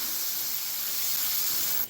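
Airbrush with the air pressure turned down sprays a fine mist of paint onto small parts of an Italeri 1/48 scale Pave Hawk model kit, a steady close hiss that holds for nearly two seconds before cutting off abruptly.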